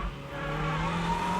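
A Toyota MR2 braking into a corner while drifting, a steady loud tire squeal with sustained tonal whine over a low engine rumble, continuous and close for the whole moment.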